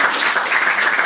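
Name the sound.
audience clapping at stand-up comedy show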